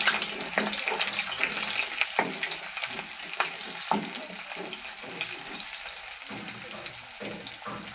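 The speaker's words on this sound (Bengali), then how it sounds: "অল্প পরিমাণে পেঁয়াজ কুচি দিয়ে দেবো।" Small amount of chopped onion frying with dried red chillies in a little oil, a continuous crackling sizzle up close with occasional stirring scrapes, easing slightly over the seconds.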